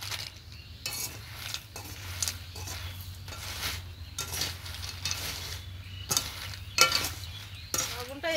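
Peanuts roast in salt in a wok, making a steady scrape and rustle as they are stirred, with repeated bursts of scraping and a few sharp pops and clicks near the end. No one speaks.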